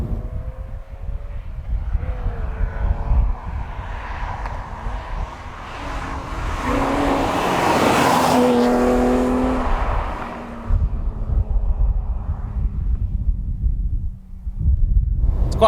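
A rare Alfa Romeo SZ driving along, a steady engine and road rumble from inside the car, with wind noise and another vehicle swelling loudly past in the middle.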